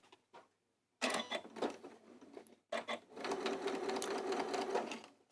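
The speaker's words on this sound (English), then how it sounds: "And I'm going to sew up to that spot again." A sewing machine stitching through quilt fabric, starting after a brief pause and running in two close, steady bursts with a short stop between them, loud and continuous with faint handling noises.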